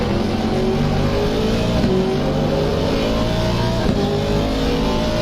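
GT3 race cars, an Aston Martin and a McLaren, accelerate at Zandvoort with a loud, steady engine drone and rising rev tones, climbing through gear changes close by.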